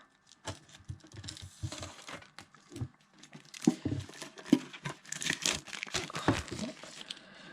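Crinkling and tearing of packaging while a Yu-Gi-Oh! tin box is opened: close, irregular plastic crackles and rustles with small taps, getting busier and louder in the second half.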